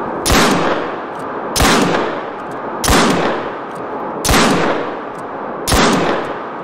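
Gunshots in the hunting game Call of the Wild, five sharp loud reports fired at a steady pace about every second and a quarter, each with a short rumbling tail, with no talk over them.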